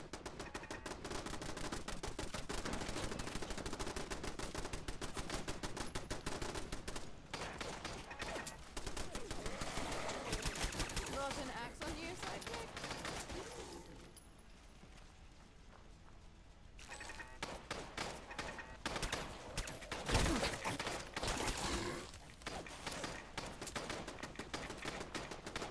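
Heavy gunfire erupts in the video game Fallout London as machine-gun bursts and rapid shots crackle in dense, loud volleys, with a brief lull partway through before the shooting resumes.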